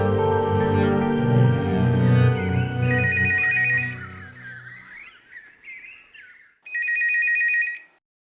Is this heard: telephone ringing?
yes